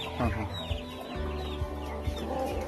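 A crested country hen clucks close by in short, irregular low calls, with other farm fowl murmuring in the background.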